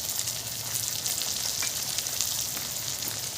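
Fish fat coated in salt and turmeric fries in a pan, giving a steady, even hiss of oil sizzling with fine crackling pops, close up and alone without talk.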